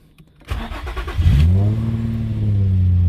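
An Infiniti G35's engine cranks briefly with a rapid starter whir and catches, then revs up and settles into a strong, steady idle close by.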